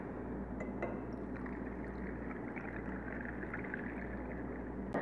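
Water pours steadily into a crystal vase, a soft continuous splashing and gurgling stream that stays faint and even throughout.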